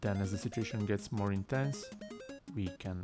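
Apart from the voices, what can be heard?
No everyday noise stands out behind the speech.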